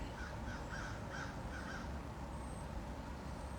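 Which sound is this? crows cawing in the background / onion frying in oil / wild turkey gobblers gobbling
crows cawing in the background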